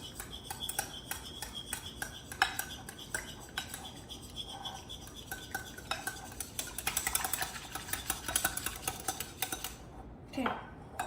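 Souffle pancake batter being mixed in a bowl with vanilla extract just added, a steady scraping and clinking of a whisk or utensil against the bowl running throughout, close and continuous, with a brief pause near the end.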